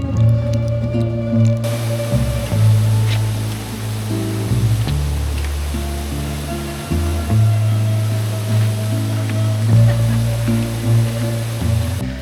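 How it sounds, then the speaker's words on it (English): A mountain river rushes near a footbridge on the Tour du Mont Blanc hiking trail, a steady broadband wash of water that holds throughout, blended with a heavy low rumble and no talking. "I don't know if you can hear the river."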